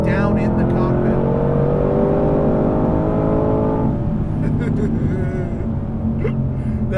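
The 2020 Shelby GT500's engine and exhaust climb in a loud, rising howl for several seconds as it accelerates, then ease off to a lower, rougher burble, with brief voice sounds near the end.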